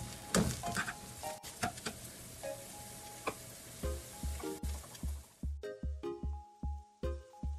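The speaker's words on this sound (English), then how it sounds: "Just fry them. Make sure it doesn't turn brown." Mushrooms sizzle in a pan for a stuffed-mushroom starter, with a steady close frying hiss, then quieter crackles under repeated rhythmic tones in the background; no one speaks.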